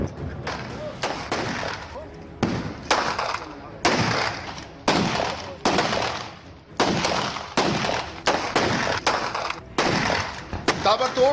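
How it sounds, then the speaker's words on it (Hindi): Rapid bursts of gunfire from a shooting scene involving gang members in Uttar Pradesh, loud and close, firing in repeated volleys with short gaps, with voices mixed in between the shots. "ताबड़तोड़ फायरिंग का ये सीन किसी फिल्म का नहीं"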